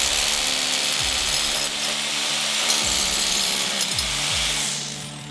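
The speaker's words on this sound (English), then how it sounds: "Grab your rotohammer, double check and make sure it's a 3/8 bit" A rotary hammer with a 3/8 bit drills a hole for a stair-mounted grab rail, a loud continuous hammering grind with brief shifts in pitch as the tool works.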